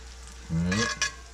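Butter hits a Lodge pan preheated to 450 degrees and crackles in a short, loud sizzle of about half a second, then a second quick spurt before it settles back to a low hiss.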